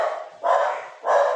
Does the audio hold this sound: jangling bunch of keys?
no